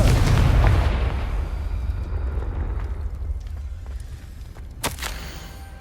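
A Confringo fire spell blast in Hogwarts Legacy, opening with a heavy booming burst that rumbles and decays over several seconds, followed by a sharp crack near the end.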